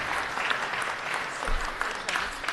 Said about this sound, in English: let's give him a big round of applause for having them